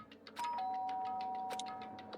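A two-tone doorbell chime rings in the video game Danganronpa: Trigger Happy Havoc, a clear electronic ding followed by a lower sustained tone that fades out, alone and close.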